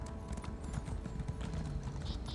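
A horse gallops in the Elder Scrolls Online video game, with quick rhythmic hoofbeats that are moderately close and carry on throughout under faint game ambience.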